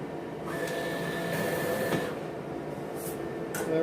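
A Roland Versacamm printer-cutter sheet cutting vinyl gives a steady mechanical hum and whir, with a brief sliding swish and faint clicks of the carriage moving.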